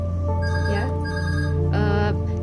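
A phone ringtone plays in short melodic bursts, close and clear, with two separate phrases of tonal chimes over a steady background hum.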